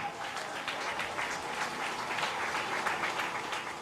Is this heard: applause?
yes